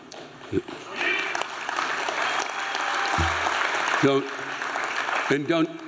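Scattered audience clapping and crowd noise during a comedian's live stand-up show, mixed with laughter and a few voice-like bursts, fairly loud and continuous throughout.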